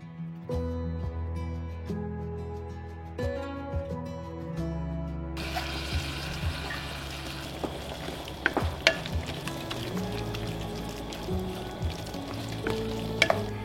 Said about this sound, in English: the onions all sauteed up until the burger is no longer pink